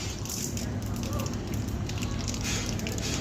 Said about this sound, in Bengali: এবার ওর কড়ার মধ্যে দিয়ে দেবো হচ্ছে পরিমাণ মতো তেল, দিয়ে দিলাম একটু সর্ষে, দিয়ে দিলাম একটু শুকনো লঙ্কা